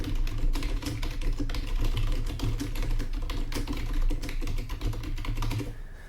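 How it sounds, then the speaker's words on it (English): Steady clatter of keystrokes on a computer keyboard as a page title is typed, continuous and close for the whole stretch with no talking. "what I just typed in now is the page title"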